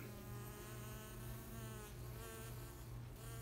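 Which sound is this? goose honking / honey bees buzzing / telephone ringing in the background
honey bees buzzing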